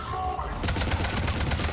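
Rapid bursts of automatic gunfire in the sci-fi shooter Mass Effect 3, a dense continuous volley starting partway through over a low rumbling game soundscape.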